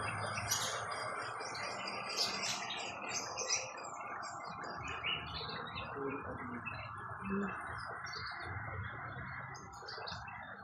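Birds chirp outdoors in a pleasant open spot, with scattered high tweets over a faint background hum of insects and distant ambience, fairly quiet and far off throughout.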